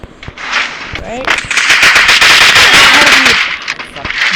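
Gunfire in a Free Fire battle royale ranked match: dense, rapid crackling bursts that are loud and close, with a voice talking over them.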